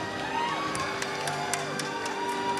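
Scattered applause and crowd noise from spectators at a championship for older stallions: sparse, fairly even claps over a steady background murmur of the crowd.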